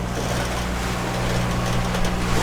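Catamaran motoring under engine power on an ocean passage as evening falls: a steady low engine drone with a constant hum, mixed with rushing water and wind noise, continuous and fairly quiet with no speech.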